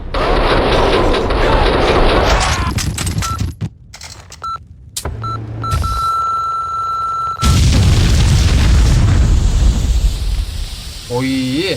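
A loud explosion in the video game Max Payne 2 erupts with a heavy booming roar, followed by clattering game effects, tonal beeps and another loud blast, with voices talking over parts of it.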